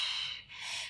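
A single soft, breathy exhale during a Pilates upper back and shoulder exercise, heard close and lasting about a second.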